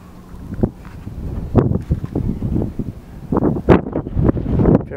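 Strong wind buffets a hotel balcony high above Cape Town, roaring in close, uneven gusts that thump against the microphone, with no voices.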